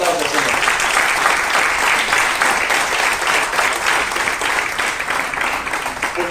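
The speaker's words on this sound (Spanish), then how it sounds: "Den fuerte aplauso, Señor." A church congregation applauding, sustained loud clapping from many hands filling the room evenly for several seconds.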